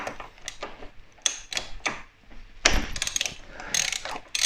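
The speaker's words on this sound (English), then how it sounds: "Let's get the front sprocket nut undone." A ratchet works on a motorcycle's front sprocket nut, giving rapid close clicking pawl sounds in several short runs with metallic knocks between them.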